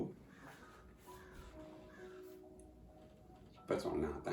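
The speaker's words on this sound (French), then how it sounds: "Ben oui, c'est le corbeau." Faint caws from a distant crow repeat a few times over a quiet background before a nearby voice begins speaking.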